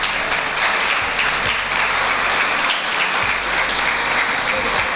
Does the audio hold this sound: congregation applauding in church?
yes